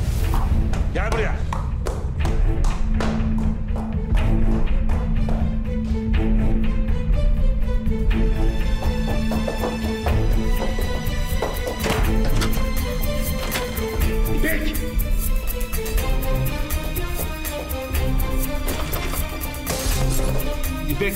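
Someone bangs repeatedly on a locked door with heavy thuds, loudest in the first few seconds, while a raised voice talks over it throughout.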